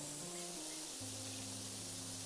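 A pressure washer in the PowerWash Simulator 2 video game sprays continuously, a loud broad hiss with a low motor drone that shifts pitch partway through, with no talking.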